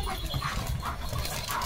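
German Shepherd named Leo vocalising at horses in rain: a short burst of close dog whimpering and panting sounds with faint yips, over steady background noise.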